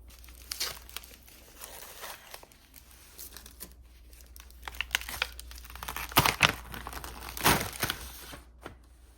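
Heat resistant tape is peeled off a sublimation mousepad by a gloved hand, giving close crinkling and tearing rips in irregular bursts that grow louder toward the end, with no talk.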